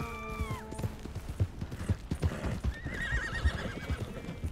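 A horse in Red Dead Redemption 2 neighs loudly at the start and again later, over a steady clip-clop of hooves, close and clear.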